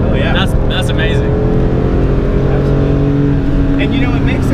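A supercar decelerating on engine braking, with a steady low engine drone and rumble running throughout, loud and close, with people talking over it.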